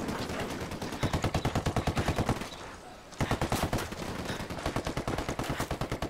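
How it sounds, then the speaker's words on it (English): Rapid automatic gunfire from a firefight with cartel forces in the video game Ghost Recon Wildlands, loud bursts of dense repeated shots that pause briefly midway and then resume. "Shots fired."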